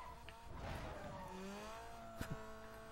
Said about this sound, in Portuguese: O carro começou a cortar giro do nada.